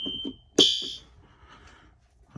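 A building security system alarm sounds in short, piercing electronic beeps: a couple of brief tones, then one loud burst that rings out and fades into a quiet room.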